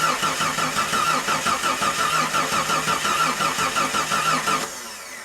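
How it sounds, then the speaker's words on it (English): The 4.6L stroker engine in an '89 Jeep Cherokee cranks over with no spark, a loud, close, rhythmic starter churn of even pulses. It cuts off abruptly near the end, leaving a quieter hum. "cranked it over a couple revolutions"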